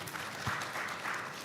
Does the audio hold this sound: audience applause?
yes